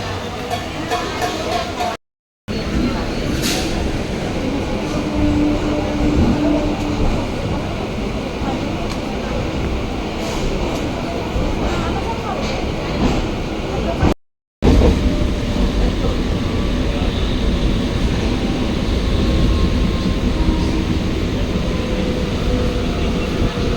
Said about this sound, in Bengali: শিয়ালদা থেকে বনগা লোকালে উঠেছি